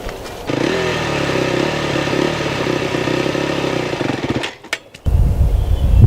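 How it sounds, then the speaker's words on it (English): Dirt bike engine running steadily and loud, then lurching and cutting out abruptly after a rider releases the clutch too fast, followed by a burst of noise after the stall. "if you let it out too fast, then the bike's going to jump forward and die, like this."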